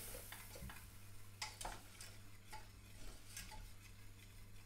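A whisk stirring flour into melted butter in a pan to make a roux, with soft scraping and tapping against the metal, quiet and close over a low background hum, no voices.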